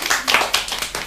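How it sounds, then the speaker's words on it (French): Brief scattered clapping from a small audience after a children's story reading, a few uneven claps over about a second, moderately close. "on applaudit"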